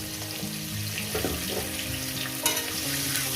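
Soft sizzling of potatoes frying in oil, a quiet continuous crackle with a few light clinks and stirring sounds.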